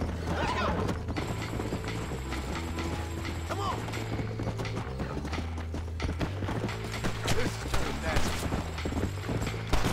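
Horse hooves clip-clop at a steady gallop in Red Dead Redemption 2, with a neigh breaking through amid mechanical clicks, game music and someone talking over it.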